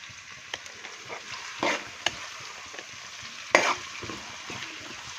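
Thinly sliced onions fry in hot oil with a pinch of salt for a Telugu fish curry, giving a steady soft sizzle with two sharper bursts of stirring, close and moderately quiet, with no talking.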